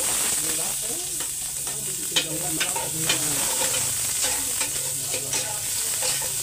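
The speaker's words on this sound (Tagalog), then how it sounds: "Sibuyas, bawang, luya, sili. So, gigisa po tayo." Onion, garlic, ginger and chili sauté in a hot pan for adobo, a loud steady sizzle close by with scraping stirring strokes running over it.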